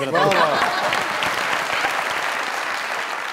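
A crowd breaks into loud, dense applause that continues steadily, with a voice briefly heard over the clapping at the start, at a TV comedy talk show.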